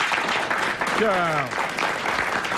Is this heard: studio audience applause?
yes